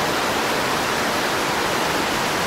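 A waterfall roars as dense, steady, broadband rushing water, loud and close, with no break or other sound over it.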